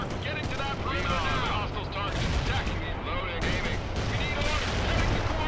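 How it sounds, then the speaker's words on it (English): Dense gunfire rattles through city buildings in the World in Conflict video game, with rapid fusillades and continuous crackling bursts filling the scene, loud and sustained, under battle noise. "They're shooting me through the buildings"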